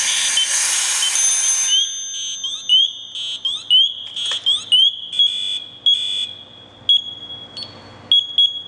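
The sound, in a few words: MSA SCBA audio alarm activating while bleeding air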